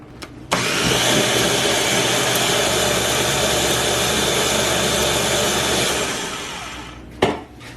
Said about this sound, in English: I'm going to puree this for another minute.